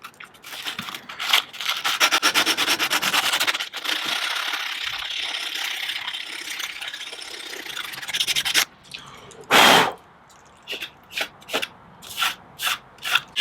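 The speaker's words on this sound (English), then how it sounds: "We're going to start just sanding this off. So I roll some sandpaper up like a cigarette." Sandpaper rolled into a thin tube rubs against a plastic rear reflector, giving a rapid scratchy rasping. A steady stretch of sanding is followed by shorter separate strokes, close and clear.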